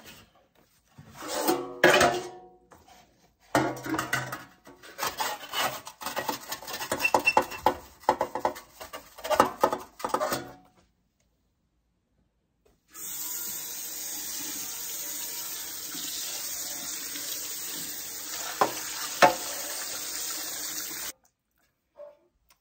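A pan being scrubbed in a kitchen sink: several bursts of close scrubbing and clattering with water splashing, a pause, then a long steady stream of tap water running.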